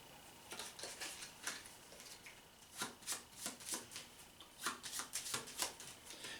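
Playing cards shuffled by hand for a cooperative Star Wars: Outer Rim board game, a quiet run of soft riffling flutters and taps in several bursts, close and alone without talk.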